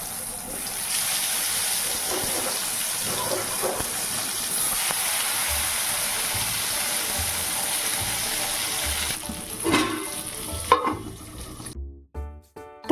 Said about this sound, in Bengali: উনানে বেগুন ভাজা হচ্ছে